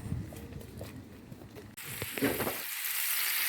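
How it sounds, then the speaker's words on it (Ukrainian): Sizzling and crackling from steaks frying in a hot pan, a steady close hiss that grows brighter and louder after a brief shift midway. "Купила стейки, варю, смажу."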